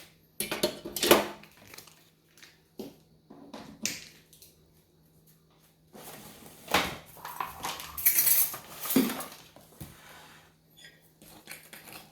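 A skillet being handled ahead of frying mochiko mahi mahi, scattered metallic clanks, taps and scrapes of pan and utensils in uneven bursts separated by quiet gaps.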